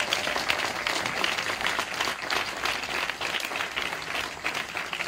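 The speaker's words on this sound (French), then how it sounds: "Est-ce qu'on peut acclamer le Seigneur?" Church congregation applauding and cheering in praise of the Lord, a dense, continuous wash of clapping and crowd noise lasting the whole stretch at steady loudness.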